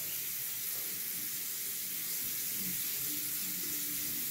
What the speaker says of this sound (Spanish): Warm water for cleaning your face.